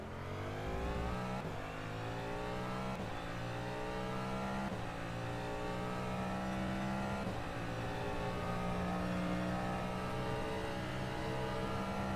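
Cadillac DPi prototype race car in rFactor 2 at Monza, engine droning steadily at high revs with brief gear-shift dips, loud and continuous.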